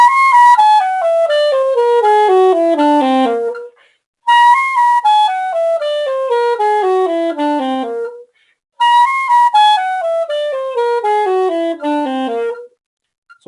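A clarinet plays a whole-tone practice passage at a tempo of 80, three times in a row. Each pass is a clear, steady run of descending notes, with a short pause between passes and no talking.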